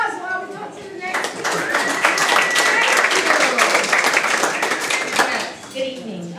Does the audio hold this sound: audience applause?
yes